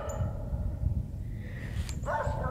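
Dogs barking and whining somewhere nearby outdoors, with a few scattered yelps over low rumbling background noise.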